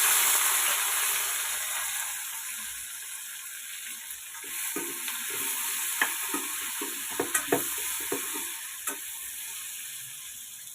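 Sliced onions and green chillies fry in a pan with a soft sizzle, while a spoon scrapes and clicks against the metal in scattered bursts toward the end.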